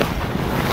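Strong wind blowing outdoors around a car-camping tent, a brief steady rush of gusty noise buffeting the microphone.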